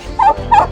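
Two loud, close turkey gobbles in quick succession on a farm with reared ducks and turkeys, each a short rattling burst.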